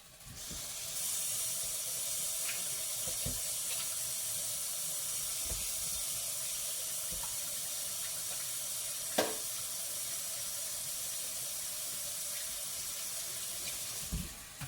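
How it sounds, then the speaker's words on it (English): Water runs steadily from a kitchen tap as hands are washed beneath it, a continuous close hiss with a few small clunks and splashes and no talking. "I am going to wash my hands."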